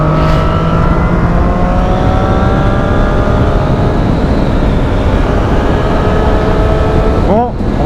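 A Triumph Street Triple motorcycle, A2-restricted, running steadily while being ridden, its engine note rising through the gears under heavy wind rush, with a quick rev blip near the end.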